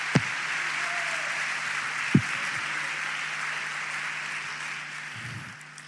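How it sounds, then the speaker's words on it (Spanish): A church congregation applauding, a steady wash of clapping heard at a distance with a couple of sharp knocks, fading away at the end. "Si va a aplaudir, apláudale fuerte al Señor"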